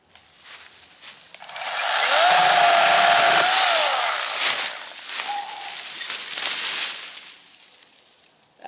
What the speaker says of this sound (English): the beast is an 8-inch Ryobi 18-bolt pruning saw